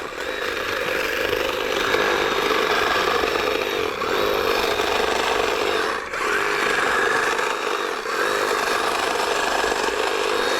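A battery-operated hedge trimmer cuts through branches while pruning after heavy rain, its motor a loud, steady buzzing drone with no break across the whole stretch and no voices.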